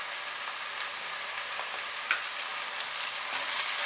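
Garlic and ginger paste frying with onions in a pan over medium heat gives a steady, even sizzle, close and continuous, with a single soft click partway through and no voices.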